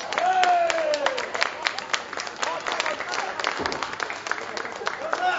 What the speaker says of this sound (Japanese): 拍手喝采です